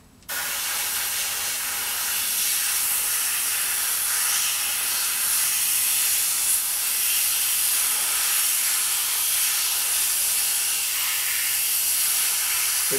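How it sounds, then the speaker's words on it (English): An airbrush sprays a paint stripe onto restored Kawasaki wheels at the edge of a shop, a steady, close, unbroken hiss that starts abruptly and holds level throughout with no talk. "Now we're going to airbrush that stripe in."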